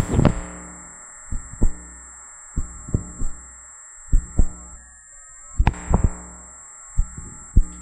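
Barkhausen effect noise from an alloy steel bolt inside a magnetized coil: irregular soft clicks and thumps in small clusters over a steady electrical hum, fairly quiet and without talk.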